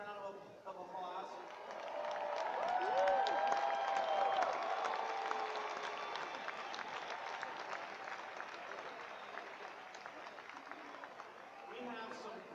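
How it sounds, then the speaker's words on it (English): An audience at a large business rally in Dubai claps in a sustained, moderately faint wave that swells and then eases, with a faint tone sounding over the crowd. "Don't you think the staff of Forever in the world deserves a big round of applause?"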